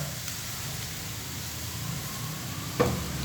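Minced pork and beef stir-fried hard with sweet basil in a pan over high heat, giving a soft, steady sizzle with one brief louder flare near the end.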